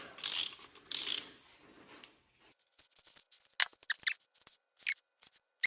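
A torque wrench clicks and ratchets on Ford Y-Block bearing cap bolts: two loud rasping pulls, then a run of sharp close ratchet clicks and metallic taps in a quiet workshop.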